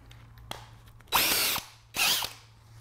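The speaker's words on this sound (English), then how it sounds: "Now I'm going to put my countersink in." Two bursts of a power drill with a countersink bit boring into wood, each about half a second long, close up over a low steady hum.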